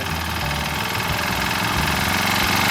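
A small pump-carburetor engine runs steadily at a raised idle during carburetor tuning, a close, continuous mid-pitched drone with a faint knocking texture and no speech.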